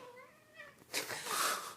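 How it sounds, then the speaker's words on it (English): A cat meows in a few short tonal cries, then lets out a louder, harsher caterwaul that carries to the end. "This cat is terrorizing us."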